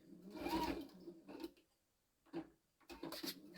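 A sewing machine back stitching a tea towel makes short bursts of whirring stitches, three or four separate runs with brief pauses between them. The machine is close and quiet, with no talking.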